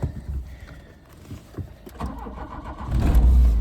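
A Volvo 480 car engine cranks and catches, rising into a loud, steady low rumble toward the end after some quieter mechanical clicks and shuffling.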